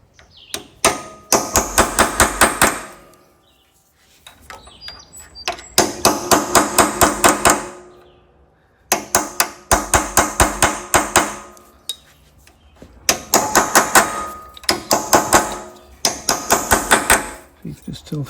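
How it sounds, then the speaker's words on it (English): A steel punch is hammered into an aluminum valve guide on a John Deere LA130 lawn tractor engine. Loud, close groups of quick metallic hammer blows come in several bursts, with short pauses between them. "now I'm gonna take my punch and take a prick mark and try to swell the aluminum into that mark on the guide"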